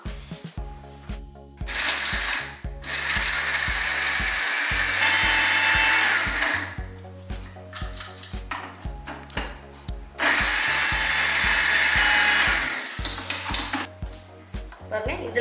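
A kitchen mixer grinder powdering dry mutton masala spices, with loud, whirring grinding bursts of a few seconds each, separated by pauses, and a steady musical background underneath.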